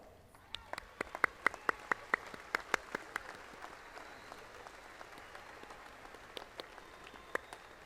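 Graduating class at Angelo State University's fall 2015 commencement claps for their families, sharp individual hand claps standing out over a softer, scattered ripple of applause in a large hall.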